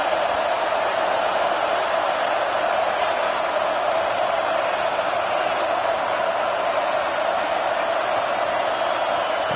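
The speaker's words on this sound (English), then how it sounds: "Listen to this crowd just shaking the girders of this place" A big stadium crowd roars steadily at a TCU college football game, a dense, loud wash of cheering that holds unbroken for the whole stretch with no let-up.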